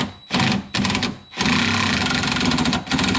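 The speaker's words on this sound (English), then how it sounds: "let's go ahead and remove all 4 of these 10 mil bolts" Power tool spinning out four rusted 10 mm bolts holding the headlight on a 2016–2018 Nissan Altima, heard as loud buzzing bursts separated by short pauses, close up with no talking.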